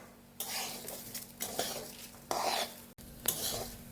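Rice being stirred in a kadai over a low flame: four bursts of scraping and rustling, each about a second long with short pauses between, close and fairly loud over a soft sizzle, no speech.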